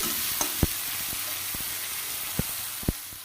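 Fish and garlic fry in a pan with a steady, close sizzling hiss, broken by a few sharp pops and light knocks of stirring.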